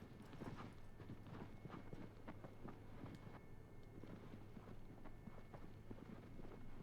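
A horse canters in the Shadow of the Colossus video game, its hooves making a quiet, steady clip-clop rhythm over a low background hum.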